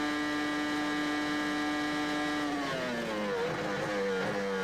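A high-pitched Formula 1 racing engine whines steadily at about 210 mph, then its pitch drops sharply in stepped downshifts as it brakes hard to 70 mph, loud and close, at the 2002 United States Grand Prix.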